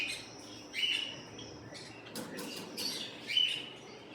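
Ringneck parrots in a breeding aviary give a few short, high chirps and squawks at moderate distance, spaced a second or so apart over a quiet background.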